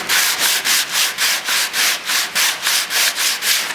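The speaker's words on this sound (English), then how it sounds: "take an old belt sanding paper" An old belt-sanding paper is rubbed back and forth along a plywood edge in about a dozen quick, even strokes, a loud, close, rhythmic scratching.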